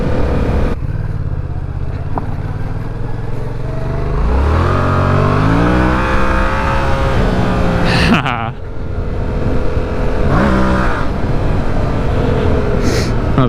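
A motorcycle, a dirt bike with new bars and a stunt clutch lever, revs loudly and continuously up close as the rear wheel fishtails, its engine pitch climbing and falling in sweeps.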